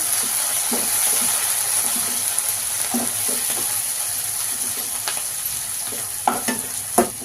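Fenugreek leaves fry in hot oil for a chicken curry, giving a steady, fairly loud sizzle throughout with scattered scraping stirs and a few sharper clinks near the end.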